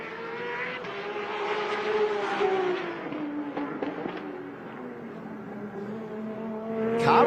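A race car engine drones close by, its exhaust note rising and falling in pitch as it revs through gears, with a sharp crackle at the end.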